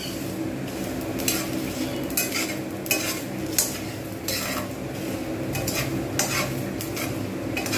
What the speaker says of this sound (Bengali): এইভাবে নাড়িয়ে যেতে হবে যেন পুড়ে না যায় কিন্তু ভালোভাবে রোস্ট হবে